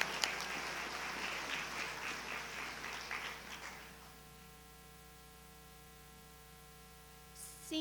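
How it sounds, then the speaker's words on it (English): Applause rises from an audience at the 2017 NC National History Day awards ceremony, a distant, fairly faint wash of clapping lasting a few seconds. It then fades into a low, steady electrical hum. "stand up and let us give you a round of applause"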